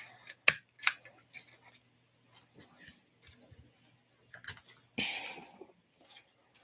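A paper craft punch stamps out small star shapes, making a few sharp, close clicks and snaps separated by quiet pauses.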